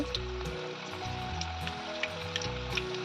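Cabbage pakoda frying in hot oil, a steady close crackling sizzle with scattered pops throughout, no talking.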